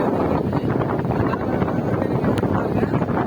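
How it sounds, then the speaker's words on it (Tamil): Outdoor wind blows hard and steady across the microphone, a dense continuous roar with slight fluctuations and no distinct pauses. "காத்து அடிச்சு கொண்டிருக்கிறது."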